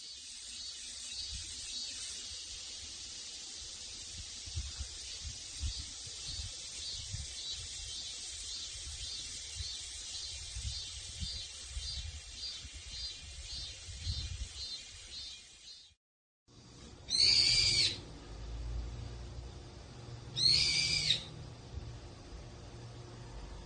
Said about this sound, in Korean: 매미 울음소리와 새 지저귀는 소리가 요란하다.